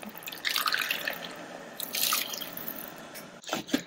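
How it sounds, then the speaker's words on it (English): Water splashes and trickles into an Instant Pot of basmati rice in a couple of pouring bursts, close by, with some clinking at the end. "For 2 cups of basmati rice, add 2 cups of water."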